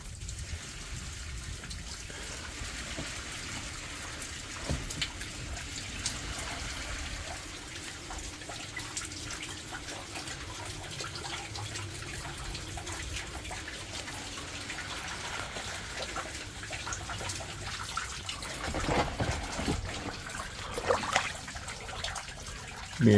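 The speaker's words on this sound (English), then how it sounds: "Water coming off the deck because it's raining really hard too," Rainwater runs and trickles steadily off the deck of a prospecting sluice in heavy rain, a continuous close splashing wash with scattered drips, alone without talk throughout.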